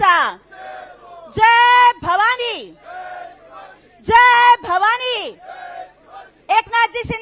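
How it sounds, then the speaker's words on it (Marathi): A large crowd roars Shiv Sena slogans at a political rally in south Mumbai, with loud, ragged shouted chants rising in bursts and fading between each call. "शिवसेना घोषणा द्या जोरात"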